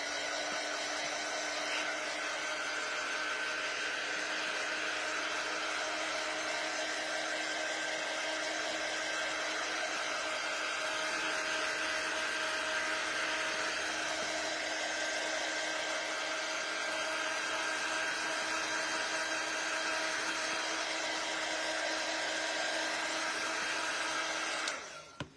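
A hair dryer blowing on a chalk transfer craft project, a steady whirring hum with a high motor whine that runs evenly for about 25 seconds before cutting off.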